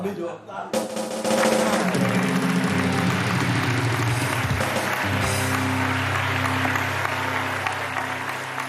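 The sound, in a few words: studio audience applause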